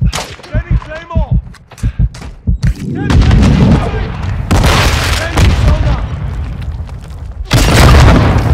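Claymore blasts and gunfire in Modern Warfare II gameplay with an Mk 12 SPR: sharp bursts of shots, then heavy, sustained booming explosions that rumble loudly for seconds, with in-game voice callouts in between.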